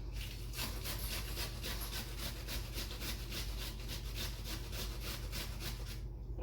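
Cabbage is rubbed against a hand grater for coleslaw, giving a steady series of rhythmic rasping strokes, close and fairly clear, with no talking.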